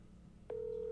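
A single long tone from a phone line starts abruptly halfway through, a clean steady beep over faint background hum while a call goes to voicemail.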